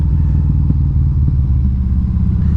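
A 2012 Harley-Davidson V-Rod Muscle with its Porsche-designed engine rumbles steadily at close range, a deep continuous drone with a few light clattering thumps and no voices.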